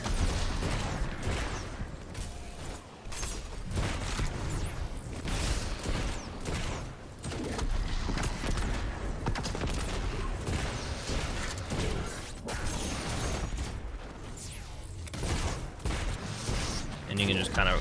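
Weapon fire in Destiny 2 as a Solar Hunter build unloads a Wither Horde, rocket and grenade, with dense repeated blasts and crashing impacts filling the whole stretch, mixed under continuous talk.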